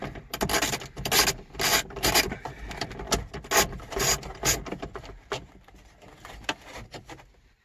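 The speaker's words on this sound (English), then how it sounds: "there's the 4th screw coming out" A screw is backed out of an interior cover on an Acura car with a hand tool, giving close, repeated scraping and ratcheting bursts in a rhythmic series that slows and fades toward the end, with no talk.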